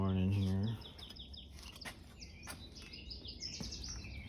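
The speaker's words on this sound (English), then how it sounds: "Birds are singing." Several birds chirp and sing outdoors on an early morning at a bird feeder, their short bright calls scattered and fairly faint. A loud low tone opens the clip and dies away within the first second, leaving the birdsong over a soft background hiss.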